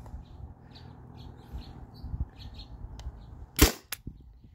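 A Byrna TCR CO2 launcher modded with a 20 oz CO2 tank fires a single sharp, loud pop near the end. Quiet background ambience and faint bird chirps come before the shot.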